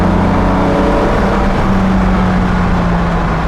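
Engine of a modified 1968 Jaguar XKE Series 1.5 roadster with a 4-speed gearbox under way, a loud, steady low drone with a sustained hum and road roar, heard from inside the car with no talk.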